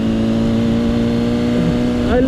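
A Honda CBR600RR sport motorcycle engine drones steadily at close range with a loud, even hum, while a person talks over it throughout.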